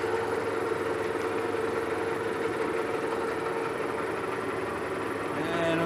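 A metal lathe turns at 345 RPM with a CNMG 431 insert while making machinist jacks, a steady loud mechanical drone with a constant whine and no break, close by.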